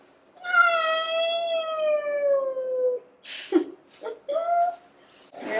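A big cat lets out one long, drawn-out meow that slowly falls in pitch, close and clear, followed by a few shorter sounds that blend with a nearby voice.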